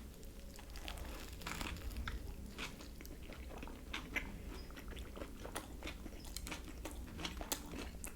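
Close-up crunchy bites into a crispy-bun Hawaiian chicken sandwich, followed by chewing, with crinkling wrapper-like noises throughout and no talking.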